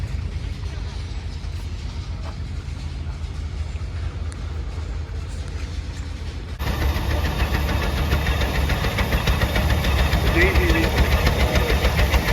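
A vintage American tractor engine runs steadily with a low knocking idle rhythm, growing louder and rougher partway through as it sounds closer, over faint background talk.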